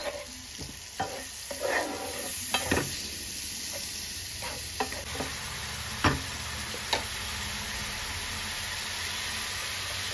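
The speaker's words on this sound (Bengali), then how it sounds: "এবার ঢাকা দিয়ে মশলাটা 2 মিনিটের মতন কষিয়ে নেব" A spice masala with salt and a splash of water is stir-fried in a pan, giving a soft steady sizzle broken by sharp scrapes and knocks of a spatula at irregular moments.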